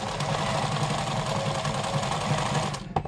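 A Japanese sewing machine stitching forward and backward runs as a steady, close, loud rapid mechanical whir and clatter, continuous throughout and cutting off abruptly at the very end.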